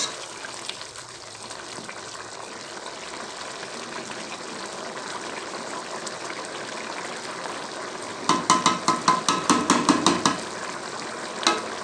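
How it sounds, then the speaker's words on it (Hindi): A steady sizzle and bubbling from a pot of chicken pulao, then a run of quick scraping spoon strokes stirring the rice near the end. "हल्का सा चम्मच चलाएंगे"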